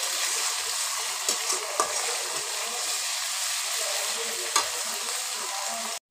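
Spice paste, ground on a grinding stone, frying in a pan for a jackfruit seed dish: a steady, loud broadband sizzle that runs without a break, with a few brief stirring scrapes, then cuts off sharply near the end.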